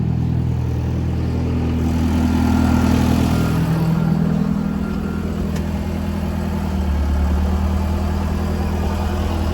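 A tractor engine runs at idle nearby, a steady low rumble that swells slightly before settling back, with no talking over it.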